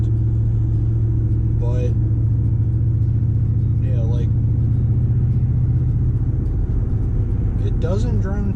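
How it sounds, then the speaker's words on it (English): A V8 pickup truck engine with an aftermarket exhaust rumbles in a deep, steady drone from inside the cab, while someone talks over it in short phrases. "I love hearing the sound of the V8 now that I can actually hear it versus the stock exhaust"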